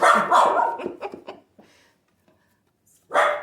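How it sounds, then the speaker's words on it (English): Loud, close dog barks in a quick cluster, tapering into quieter yips, a pause, then another loud bark burst. "Somebody's outside walking their dog."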